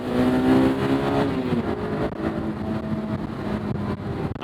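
A stock 2001 Honda S2000 AP1 accelerates hard from inside the cabin, a loud close engine note climbing steadily in pitch with road rumble beneath and no talking.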